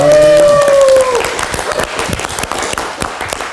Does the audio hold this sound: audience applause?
yes